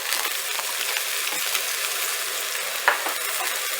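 Cranberry beans frying in a hot pan give a steady, bright sizzle close by, with a single sharp clink of a utensil partway through and no talking.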